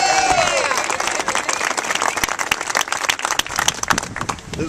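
A crowd applauds and cheers for preachers at a political campaign launch rally, with dense, sustained clapping and scattered shouts that carry on throughout.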